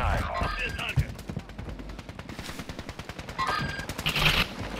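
Rapid automatic gunfire rattles in dense bursts during a Call of Duty: Modern Warfare II match, with a few louder single shots and a lone voice talking briefly over the shooting.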